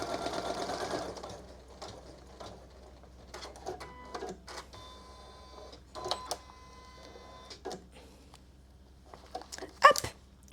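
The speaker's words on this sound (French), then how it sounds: "ça découpe son fil, ça fait son point d'arrêt" A Janome Memory Craft 1000 embroidery machine runs in bursts, with a rapid whir near the start, then scattered clicks and short mechanical buzzes as it trims the thread and ties off, fairly quiet with a steady low hum beneath.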